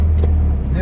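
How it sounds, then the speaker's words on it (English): A 1969 Morris Minor pickup pulling away as the clutch is let out, its engine a steady low rumble close by and filling the moment without pause. "I'm holding the brake, letting the clutch out, feeling the bike"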